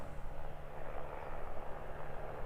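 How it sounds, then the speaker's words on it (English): A helicopter approaching from behind at Queenstown Airport on a snowy alpine day: a faint, steady engine and rotor drone that stays low and distant, with no voices. "Sounds like we've got another helicopter approaching from behind us"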